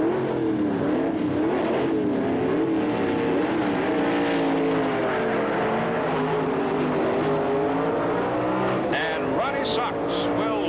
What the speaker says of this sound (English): The Corvette leaves first with the handicap.